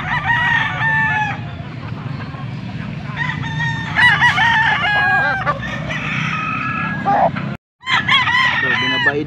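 A young stag gamecock of Claret Gilmore line crows loudly and close by in Pampanga, giving several long, rising crows in a row with clucking between them and people talking in the background.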